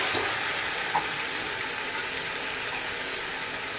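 Chicken browning in a pan for tea-style biryani, a steady close sizzle and hiss with a single soft clink of stirring near the start.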